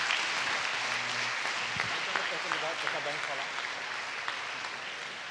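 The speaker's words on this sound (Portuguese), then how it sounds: "Aplauda bem forte ao Senhor." Congregation in a church applauding in a steady wash of clapping, with voices calling out and murmuring underneath throughout.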